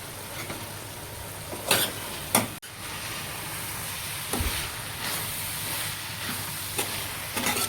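Chopped curry leaves and coriander go into a hot pan of dry-style cowpea pod vegetable, with a continuous close sizzle broken by a few brief louder hissing bursts.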